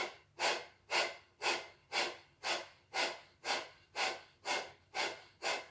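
Slow, forceful exhalations during a yoga session, about eleven evenly spaced breaths out through the nose, each rising sharply and fading, close and clear with no talk.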